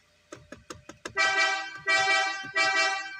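A Ford Ranger pickup truck horn: four short quick beeps, then three long loud blasts with brief gaps, close by and alone.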